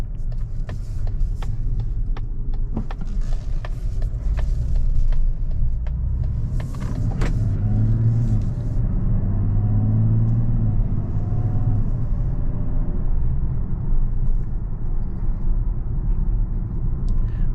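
A 2024 Mazda CX-90 with a 3.3 turbocharged inline-six accelerates under a steady low rumble of engine and road noise from inside the cabin, with a few small clicks early on and no talk.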